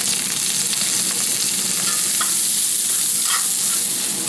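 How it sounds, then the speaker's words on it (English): Carrots and broccoli stir-frying in a pan for a pork stir-fry, a loud steady close sizzle with a couple of brief scraping stirs, no voices. "We're going to go ahead and get the carrots in there and the broccoli, because that takes a while to cook."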